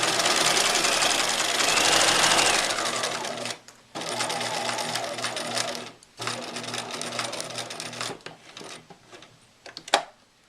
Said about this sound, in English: now I'm sewing through the neck strap and the apron